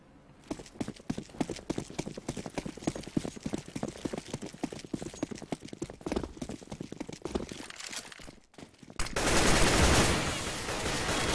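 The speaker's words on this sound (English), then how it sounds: "Great spray down from Gapes in the middle, takes care of Sparrow." Rapid rifle spray in the Counter-Strike map de_cache during a competitive match, a long run of sharp repeated shots, fairly close and steady for several seconds before a louder burst of noise takes over.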